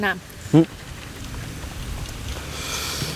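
Steady rain patters across the whole stretch, with a brief voice near the start and a gusty hiss building toward the end.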